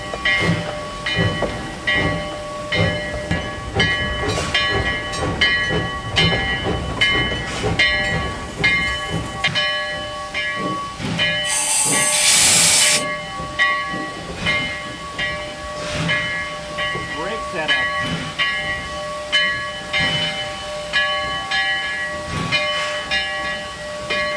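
A steam locomotive rolls into a depot with a loud, continuous hiss of escaping steam, a brief sharp whistle burst near the middle, and rumbling, clanking rail noise throughout.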